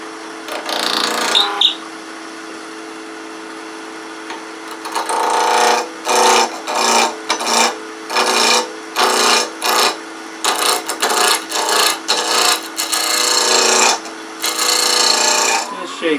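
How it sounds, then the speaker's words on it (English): A wooden detail ring for a wheelie bug pull toy is turned on a lathe. A steady motor hum runs under repeated loud scraping bursts as the tool cuts, pulsing on and off in quick rhythm. "Now we're going to turn this little detail ring for the near the end of the tail."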